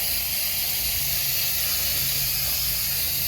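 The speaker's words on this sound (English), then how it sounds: "I'm going to spray brake clean on the rotor, caliper, the whole 9 yards" A continuous aerosol hiss of brake cleaner sprayed over a Range Rover Sport rear rotor and caliper, steady and unbroken from start to finish, close by and moderately loud.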